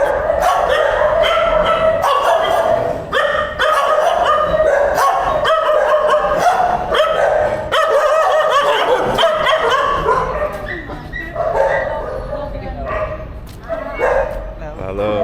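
Rescued shelter dogs at an animal shelter in the Philippines bark and yip repeatedly in a noisy, overlapping chorus nearby, some whimpering, with a person talking over the din.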